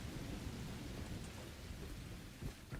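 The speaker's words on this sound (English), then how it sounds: "Will the rain go away?" Rain falls heavily with a deep thunder rumble in The Last Caretaker video game, constant and soft, with a faint low thud near the end.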